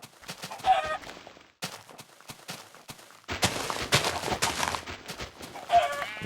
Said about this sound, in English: Oh, there's a chicken there.